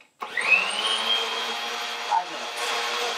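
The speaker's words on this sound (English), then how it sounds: "And now we put it on blend." An old countertop blender running on its blend setting to mix sugar syrup, starting abruptly and holding a steady, loud motor whir with a rising pitch and a brief bump near the end.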